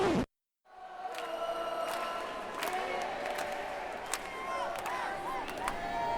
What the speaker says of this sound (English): this is the crowd when it's tied at full time